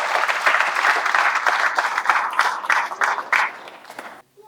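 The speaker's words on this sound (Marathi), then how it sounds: "एकदा जोरात टाळ्या होईल" An audience at a Marathi devotional discourse claps loudly for about four seconds. The dense applause swells in waves, then cuts off abruptly.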